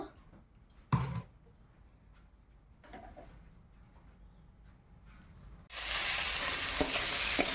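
Prawns frying in hot oil in a wok, with a few brief clicks and knocks over near silence at first, then a sudden loud, steady sizzle.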